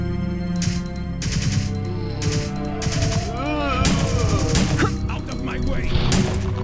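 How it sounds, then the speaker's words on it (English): Gunfire against zombies in the PlayStation game Resident Evil 3, repeated sharp game gunshots in irregular bursts over a steady background hum, with someone talking over them. "There's some gunfire."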